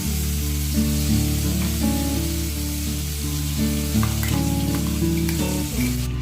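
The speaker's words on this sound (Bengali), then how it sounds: "এবার বেটে রাখা মশলাটা কড়াইয়ের মধ্যে দিয়ে দিচ্ছি" Ground spice paste for a spinach chutney hisses loudly as it goes into hot oil in a kadai, a constant sizzle beneath melodic background music.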